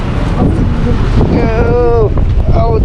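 Strong wind gusting across the microphone on a city street walk around the Cecil Hotel in downtown Los Angeles, a loud continuous rumble with people talking over it.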